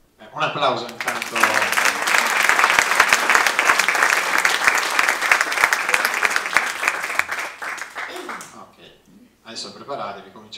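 A crowd at a lecture-concert event breaks into sustained applause, a dense wash of many hands clapping for about eight seconds before fading, with a brief second burst near the end.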